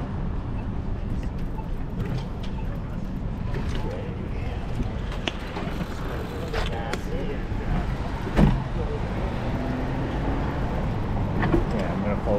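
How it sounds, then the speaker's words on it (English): City traffic on a bicycle ride through Toronto: a continuous wash of passing cars and road noise with scattered clanks and a few sharper knocks, steady and moderately loud. "Great traffic."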